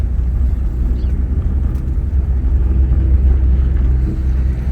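Engine of an abandoned, rusty Bentley T1 barn find running with a blowing exhaust, heard as a steady low rumble with wind buffeting throughout, driving along a Welsh country lane.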